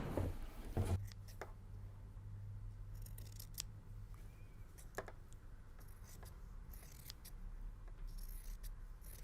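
Scissors snip through fabric for a small child's bag, a few crisp, close cuts spaced across a quiet background with faint handling noise.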